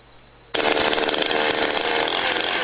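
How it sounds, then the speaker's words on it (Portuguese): A chainsaw bites into a log while cutting a joint for a log cabin, starting abruptly after a quiet moment and then roaring loud and steady, close by, with no talk. "fiz vários cortes no tronco com a motosserra"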